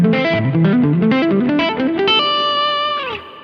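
Electric guitar played with a down-down hybrid picking pattern and left-hand hammer-ons, run through effects with distortion and chorus; a quick, even cascade of picked and hammered notes that ends on a sustained, ringing note, loud and alone.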